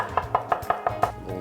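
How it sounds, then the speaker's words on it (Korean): A knife finely chopping abalone innards on a cutting board, six evenly spaced, crisp taps in quick succession, close and clear over a faint kitchen background, with no talking. "전복 내장을 곱게 다집니다."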